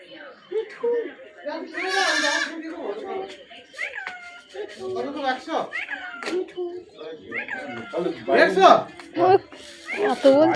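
A pet parrot gives repeated squawking, warbling calls close by, mixed with people speaking softly around it in a home.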